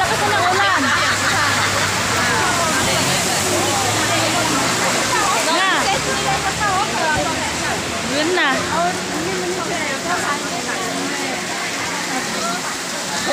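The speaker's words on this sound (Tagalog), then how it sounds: "Wala na, lakas na ng ulan." Heavy rain pours steadily in Singapore, a dense hiss and splatter throughout, with people talking briefly underneath.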